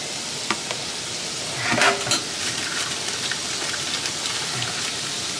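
Slider patties and onions sizzle on a grill in a continuous close crackle, with a brief louder burst of spitting and a few scattered pops.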